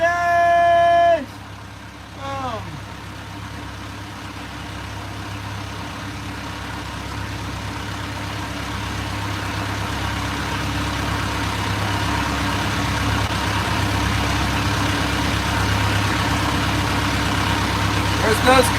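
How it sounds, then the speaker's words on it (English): A boat engine idles steadily on open water while out fishing, a constant low rumble running throughout under intermittent talk, with a brief tonal sweep near the start. "Oh yeah, that's the engine."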